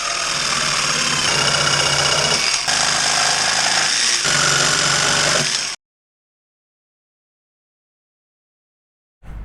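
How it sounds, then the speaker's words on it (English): Power grinder cutting hard and loud into a campervan window frame opening to enlarge it, a continuous harsh roar with two brief dips, then silence before a short burst returns at the end. "So we can then just grind bits out until it fits."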